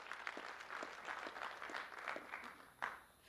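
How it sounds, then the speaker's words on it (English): Applause from an audience at the launch of the 2014 Measuring the Information Society Report, faint, distant steady clapping in a large hall with scattered louder claps standing out. "how does a round of applause for Mr. Sanu."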